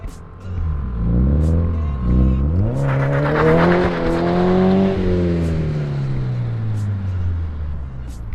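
A car's engine revs hard through rising and falling pitches during a burnout, loud and close, with a harsh rasping tire-spin layer building in the middle, and people talk over it.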